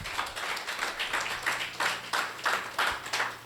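A church congregation claps in praise during a Spanish-language prayer service, the rhythmic applause coming in pulsing waves for a few seconds with a low hum underneath.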